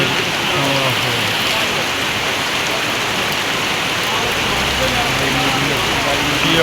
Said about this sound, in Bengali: আষাঢ়ের বৃষ্টি খুবই সুন্দরভাবে ঝরতেছে, চারিদিকে শুধু বৃষ্টির সমারোহ।